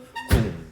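A single heavy low thud of a foot stomp comes with a sharp clap, keeping the beat in an elementary school music lesson, close and fairly loud after a brief faint tone.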